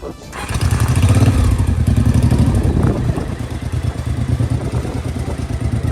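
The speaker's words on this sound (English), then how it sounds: "So we got the bike running." A budget bobber motorcycle runs on gravity-fed fuel with the fuel pump bypassed and the carburetors untouched, a steady, loud, close engine with a lumpy, pulsing idle rhythm and some wind noise.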